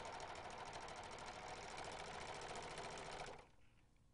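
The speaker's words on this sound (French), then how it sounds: "Cousez en rognant la valeur de couture." A Janome Pro 4DX serger stitching two pieces of fabric, a fast steady mechanical whirr with rapid rhythmic ticking, running close and evenly for about three seconds before stopping abruptly.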